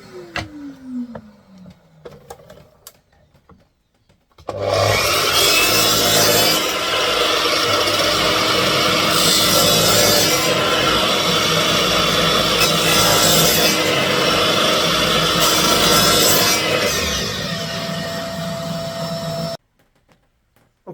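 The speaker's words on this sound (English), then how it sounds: "you need to cut between 15 and 20 mm strips to go in between the pieces of ply that you've cut out" Sawing plywood into narrow 15–20 mm strips for a multi-chamber bat box: a loud, continuous power-saw cut lasting about fifteen seconds with rhythmic surges, preceded by faint handling noises and ending abruptly in silence.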